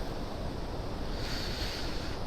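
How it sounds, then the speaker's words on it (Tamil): Water rushes steadily near Attukad waterfalls on the route from Vattavada to Munnar, a dense, even roar that fills the whole clip with no voices. "இங்கிட்ட எப்படி போகுது பாருங்க தண்ணி"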